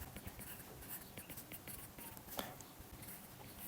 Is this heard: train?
no